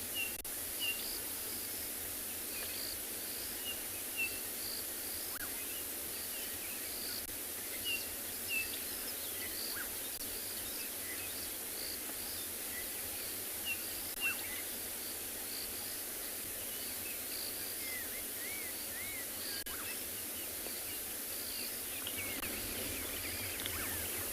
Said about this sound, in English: you can able to hear all communication of the birds